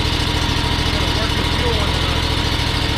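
A repaired Ferris riding mower engine runs at a steady idle, loud and close with an even rhythmic chug and mechanical rattle, while people talk over it.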